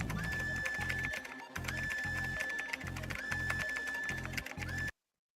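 Rapid typing sound effect from a gacha video game, a steady clatter of keystrokes repeating in short bursts with a rising beep tone, loud and close, then cut off abruptly.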